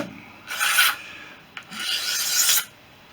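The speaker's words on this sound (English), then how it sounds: "shape sort of almost by filing it with this" Two long strokes of a hand file rasping along a Fisher Youngster windscreen frame, each lasting about half a second to a second, with a brief tap between them; close and steady, with no voices.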